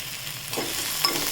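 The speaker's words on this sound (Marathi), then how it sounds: "परत परतून घ्यायचं" Sprouted moong with turmeric is stirred and fried in a pan, giving a soft sizzle under a scrape or two of the spoon, brief and close.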